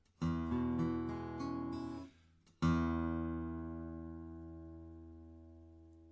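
Schoenberg OM-45 Deluxe acoustic guitar played solo: a few strummed chords ring out, then a pause and one loud full chord that sustains and slowly decays with rich overtones.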